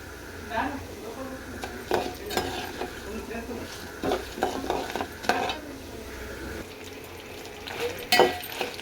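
Urad dal and chana dal dry-roasting with coriander seeds in a pan for ginger chutney, with a steady low crackle and repeated scraping stirs of a spoon against the pan, near and fairly quiet.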